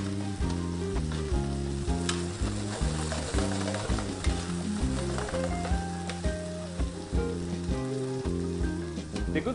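Spanish tapas cooking in a hot pan after a sprinkle of coarse salt: a steady, close sizzle and crackle runs throughout, with tonal background music underneath.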